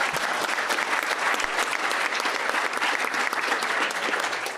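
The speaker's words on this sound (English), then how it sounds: "Can we have just a warm round of applause?" A conference audience gives warm applause after a panel at Consensus 2019, a crypto event, as a continuous, even wash of many hands clapping without pause.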